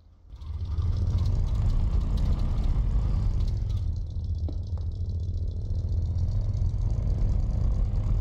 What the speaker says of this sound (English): we'll let the engine run for a little bit here.